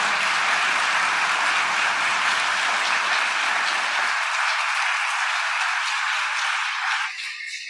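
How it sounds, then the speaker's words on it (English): Applause from a conference audience, dense and sustained clapping at close range that holds for several seconds before the lower body drops away and it tapers off. "Can we all please join me in giving an amazing round of applause to Antonio"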